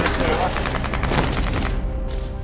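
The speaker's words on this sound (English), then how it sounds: "Our hero Rick is firing an AR-15, full auto, gives him a lot of juice when he's out there" An AR-15 rifle fires full auto on a TV show set, loosing a rapid, steady string of loud close shots that ends abruptly, leaving a short echoing tail.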